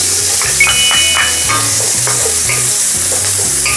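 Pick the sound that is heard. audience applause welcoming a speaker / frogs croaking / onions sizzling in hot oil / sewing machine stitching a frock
onions sizzling in hot oil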